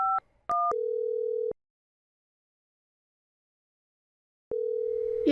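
A long-distance number being dialed on an enterprise telephone system: a few short clean dialing tones, then a steady tone lasting about a second, a pause of silence, and the same tone returning, clear and isolated.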